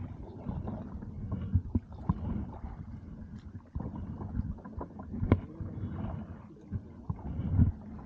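Kayak paddled in reverse off Vengurla beach, with low rumbling water sloshing and irregular paddle splashes and knocks, close by and moderately loud, without any talk.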